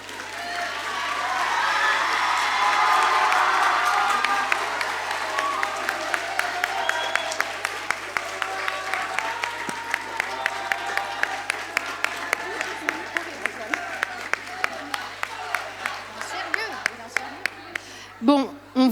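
An audience at a school pleading-contest prize ceremony claps for the prize winners, loud and sustained at first, then thinning into sparser, distinct claps near the end.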